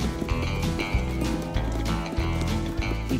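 Horses move along during a bison roundup on Antelope Island, Utah, their dull hoof clops and rustling steady and fairly close amid a continuous low rumble.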